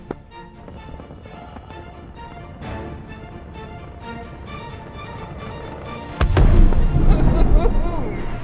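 Weapon fire in the space game Star Citizen destroying an enemy M2 ship on the ground, with busy game sounds building to a loud, sustained blast near the end.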